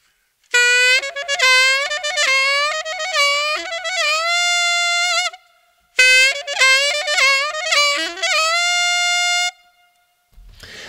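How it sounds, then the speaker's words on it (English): Saxophone playing a side-key trill, bright sustained notes with rapid trills, pitch bends and short pauses before each trill, in two clear phrases separated by a brief gap, played alone and close. "here's what the bends and the timing of the trills sound like"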